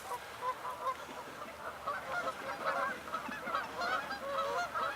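A flock of geese honks in alarm, many overlapping calls continuing throughout, moderately distant and fairly loud against a quiet outdoor background.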